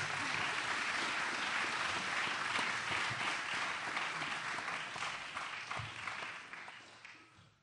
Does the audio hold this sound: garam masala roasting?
no